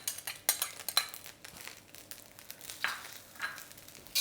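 Carrots and capsicum for fried rice are stirred in a pan, with a faint sizzle under intermittent scraping and clinks of a utensil against the metal, close and fairly quiet.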